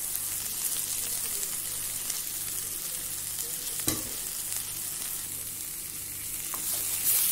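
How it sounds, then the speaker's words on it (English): Steady sizzling of powdered spices frying in a pan for Punjabi rajma masala, with occasional scrapes of stirring and a brief clink, continuous throughout. "Frying and mixing in the spices."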